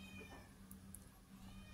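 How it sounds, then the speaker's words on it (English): A house cat cries faintly in the background of a quiet indoor room, a soft brief meow against low room hum. "my cat is crying in the background."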